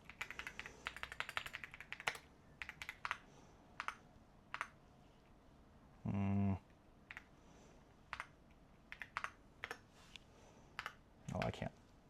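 Quick bursts of clicky typing on a computer keyboard, close and crisp, with irregular clusters of keystrokes spread out between pauses and a short tonal sound partway through.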